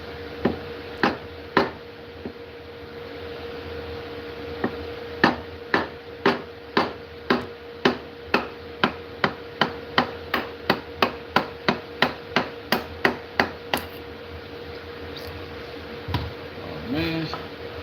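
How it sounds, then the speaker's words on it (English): Homemade mallet striking repeatedly in a workshop, a series of sharp woody knocks, sparse at first then falling into a steady rapid rhythm of about twenty blows before stopping, with brief talk near the end. "the reason I'm using this mallet so much is because I made it out of material I don't know a lot about"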